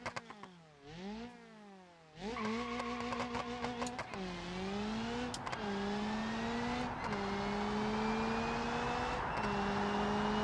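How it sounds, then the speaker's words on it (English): Simulated car engine in the driving game BeamNG.drive revving hard and climbing through several upshifts, each gear change cutting the tone before it rises again, loud and close with crackling exhaust pops. "Okay, this car makes great noises."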